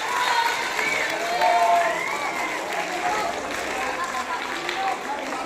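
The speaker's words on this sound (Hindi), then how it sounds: "जोरदार तालियां" Students and teachers at a school student-parliament election result burst into loud applause mixed with cheering and excited crowd voices, a busy, continuous roar of clapping and chatter.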